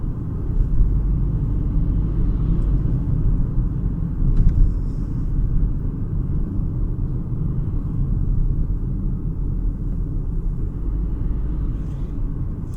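Volvo XC40 compact SUV accelerating on the road, a steady low engine and road rumble drone with tyre noise, continuous and fairly loud throughout, no voices.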